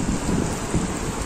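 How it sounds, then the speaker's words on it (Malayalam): Heavy, wind-driven rain pouring down in Dubai, a dense, loud wash of hiss with low rumbling underneath, heard alone for a brief moment. "ഇതാ ഇപ്പോ നല്ല മഴ, അതിശക്തമായ മഴ."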